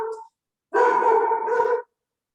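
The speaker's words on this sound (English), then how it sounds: "Sorry about the dog." A dog in the room lets out a short yelp, then after a brief pause a longer drawn-out bark-howl lasting about a second, close and fairly loud, with no talking.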